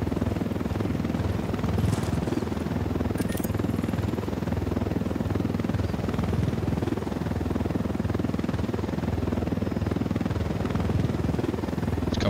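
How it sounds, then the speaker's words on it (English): A military helicopter in a video game thunders overhead with a dense, continuous rotor rumble. The sound stays steady and fairly loud throughout, with no voices over it. "you got a chopper coming in north"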